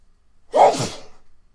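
A single close sneeze with a sharp onset and a breathy tail, alone against quiet.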